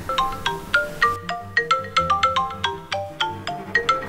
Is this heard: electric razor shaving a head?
no